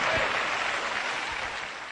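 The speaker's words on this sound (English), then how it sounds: "The crowd goes wild, the Democrat crowd" Democratic crowd at a Barack Obama speech roaring and cheering, a dense, steady wash of applause and voices that holds loud through the moment and eases slightly toward the end.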